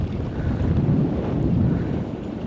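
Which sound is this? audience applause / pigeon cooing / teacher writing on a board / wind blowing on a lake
wind blowing on a lake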